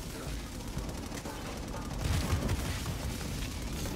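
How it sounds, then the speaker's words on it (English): Minigun fire in the video game Infamous Second Son: a continuous rapid rattle of automatic gunfire heard fairly far off and low in level, swelling slightly midway through, with no voices over it. "Alright, what's with this minigun?"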